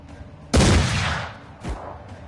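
A black powder weapon fires once in the Mordheim video game, a sharp, loud blast that rings and slowly decays, followed a second later by a softer secondary report.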